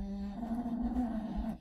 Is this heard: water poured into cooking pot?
no